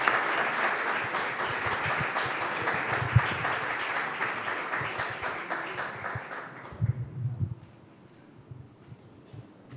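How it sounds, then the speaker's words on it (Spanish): An audience at a political marketing conference applauds Dr. Eduardo Duhalde, with steady, dense clapping filling the room for about seven seconds before it thins and fades out, leaving a few scattered claps and low room noise. "agradecerle a través de un aplauso la presencia al doctor Duhalde."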